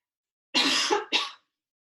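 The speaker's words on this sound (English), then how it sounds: "I'm so self-conscious that I just coughed" A single cough with a short second burst, close and fairly loud, heard alone during a stretching workout session in a slightly dusty room.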